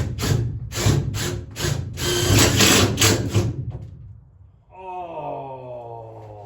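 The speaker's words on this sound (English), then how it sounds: "As you screw these in, make sure you're not pinching the wires." A power driver runs screws into the wall of an enclosed trailer, several close, loud bursts of whirring and grinding in quick succession, followed by a trailing buzz as the driver winds down.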